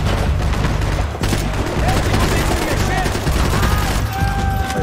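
Max Payne 3 gunfight: steady, dense rapid gunfire rattles loud and close throughout, a continuous barrage of shots with heavy low thumps.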